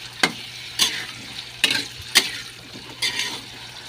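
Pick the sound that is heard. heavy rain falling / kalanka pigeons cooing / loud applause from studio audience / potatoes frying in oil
potatoes frying in oil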